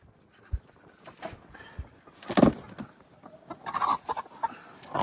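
A big hen clucks in a pen among other chickens, uneven close clucks and squawks rising and falling in bursts, with no talking.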